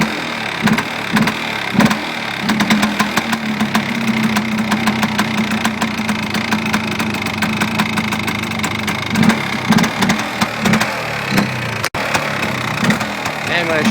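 A Polaris Xplorer 400 ATV engine, sitting almost two years and smoking from too much oil, runs steadily with a knocking idle throughout, loud and close, briefly interrupted near the end.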